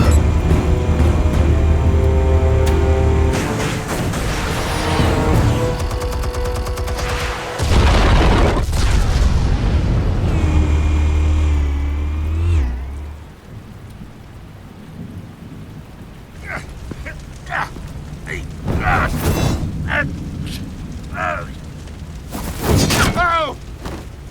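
A heavy explosion in Batman: The Telltale Series, with a deep roaring boom and rumbling debris that fade into crackling aftermath, while a voice speaks at the start and later clanks and scattered speech follow.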